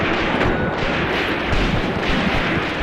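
Battlefield in the WWII strategy game Graviteam Tactics: Mius Front, with a continuous roar of gunfire and artillery, dense overlapping shots and thudding blasts at steady high loudness throughout.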